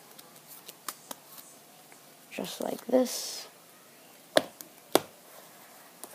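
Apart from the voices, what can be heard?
cutting and shuffling a deck of playing cards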